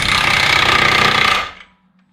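Impact wrench rattling a fastener on Golf 4 suspension during an inner CV boot job, a loud dense hammering burst lasting about a second and a half before cutting off abruptly.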